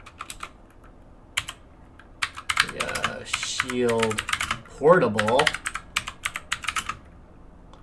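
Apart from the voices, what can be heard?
keyboard clicking while typing on NVIDIA Shield Portable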